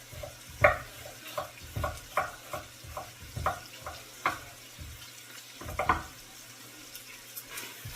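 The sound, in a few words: vegetables sauteing in bacon grease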